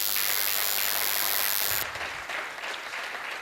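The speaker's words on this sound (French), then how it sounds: "je vous prie d'applaudir" Graduation ceremony audience applauding in a hall, a dense wash of many hands clapping that holds steady and loud, then thins and fades away over the last couple of seconds.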